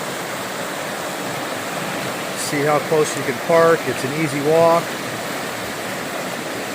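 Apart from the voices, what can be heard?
spring water flowing out of the ground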